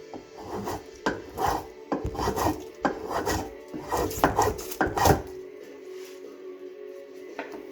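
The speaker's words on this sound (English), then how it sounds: "Some action shots here using spoke shave" A hand spokeshave shaping a wooden table part, making a steady series of close, raspy shaving strokes in a fairly even rhythm that stop abruptly, leaving a quiet room tone.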